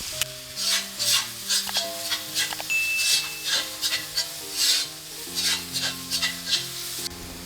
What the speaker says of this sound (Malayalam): അതിലേക്ക് ഞാൻ ഇഞ്ചിയും വെളുത്തുള്ളിയും ചേർത്ത് ഇളക്കുകയാണ്.